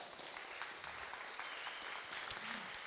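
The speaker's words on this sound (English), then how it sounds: "So please come on stage with a warm applause" An audience at a food film festival talk applauds a guest coming on stage, giving quiet, steady clapping heard from a distance for about three seconds.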